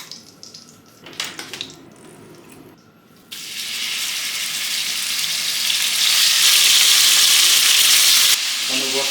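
Meat frying in beef tallow for Hungarian goulash, with quieter clatter and handling noises at first, then a loud, steady close sizzle that swells and continues before cutting off near the end.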